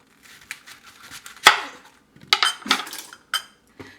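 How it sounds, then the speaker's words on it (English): A knife chops a leek on a cutting board in a home kitchen, with close, sharp chops coming in short irregular bursts and brief pauses between them. "Finally, chop your leek."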